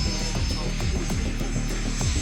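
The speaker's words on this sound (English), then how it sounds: "The T-1 Jayhawk is a medium-range twin-engine jet aircraft used by the United States Air Force for advanced pilot training" Raytheon T-1 Jayhawk twin-engine military training jet, a steady loud engine roar with a pulsing, wavering low rumble across the short stretch.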